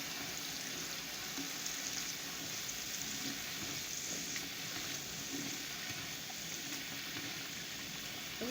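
Khoya and chickpeas roast in a pan with a steady, soft sizzle that holds evenly throughout, close and continuous with no voices.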